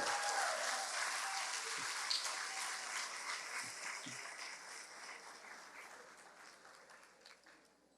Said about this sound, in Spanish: Un aplauso para esta gente.